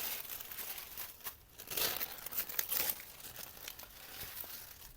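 Sheets of transparent gel paper crinkle and rustle as they are cut and handled for a guitar collage, a soft, close, irregular crackling with no talk.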